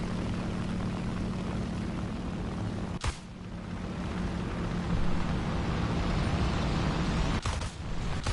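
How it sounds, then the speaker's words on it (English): A bomber droning past in a propeller-era air combat video game gives a continuous low engine roar that swells slightly midway, with two sharp bursts of impact or gunfire cutting through. "Is that a bomber?"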